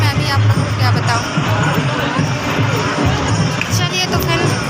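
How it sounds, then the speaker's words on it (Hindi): Dense crowd hubbub at a busy pilgrimage site on the way to worship at Tilwara, a steady loud babble of many voices with occasional thumps and cheers throughout. "आप लोग देखिए कितनी भीड़ है, बहुत यहाँ पे इतनी ज़्यादा भीड़ है"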